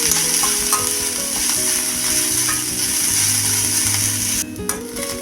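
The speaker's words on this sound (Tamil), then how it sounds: "இப்போ இதை 1 நிமிஷம் வதக்கிக்கலாம்." Grated cabbage and mixed vegetables sautéing in a pan for a healthy breakfast dish, with a steady close sizzle and continuous rattling, scraping stir strokes that stop briefly near the end.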